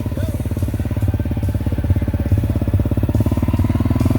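Harley-Davidson Panhead motorcycle engine at a hill-climb event, a loud, steady, rapid low-pitched thumping idle that runs evenly throughout with no talk over it.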